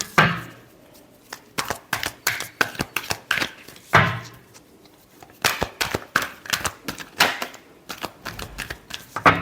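Tarot cards being shuffled by hand in bursts of rapid riffling and flicking, with brief pauses between runs, close and crisp with no speech.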